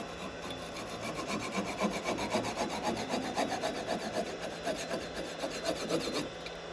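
A hand saw rasps through a wood turning in quick, even back-and-forth strokes, close and steady, then stops near the end.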